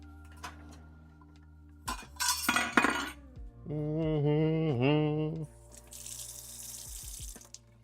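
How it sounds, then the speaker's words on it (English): Water from a kitchen tap runs into a sink during cooking. A few sharp clinks of dishes and a sustained tonal hum come first, then the tap gushes steadily for a couple of seconds before cutting off. "Water."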